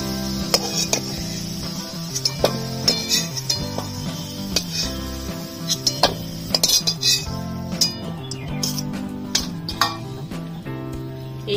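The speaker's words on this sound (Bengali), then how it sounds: "আলু ভাজা হয়ে গেছে, তুলে নিচ্ছি।" Fried potatoes are lifted out of a pan with metal utensils, a busy run of close clinks, scrapes and taps against the pan over a faint sizzle.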